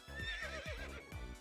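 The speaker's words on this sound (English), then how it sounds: "Why did that just neigh at me?" A horse neighs in the video game Omori, a quiet whinny with a rising and falling pitch over steady looping game music.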